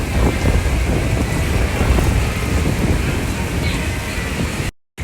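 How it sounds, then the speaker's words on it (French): Torrential rain pours down in Florida in a heavy, continuous downpour, a dense roaring wash of water with a rumbling low end that cuts out abruptly at the end. "je dois sortir sous la pluie torrentielle"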